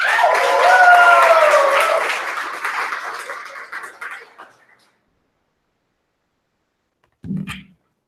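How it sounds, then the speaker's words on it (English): A crowd claps and cheers, loud at first then thinning out and fading to silence, followed by a brief, short burst of sound. "Brenda, give her a round of applause, please."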